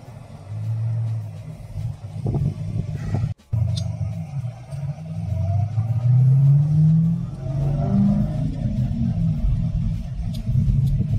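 A modified car engine rumbles low and steady, rising into a deeper throaty rev partway through, heard close and loud.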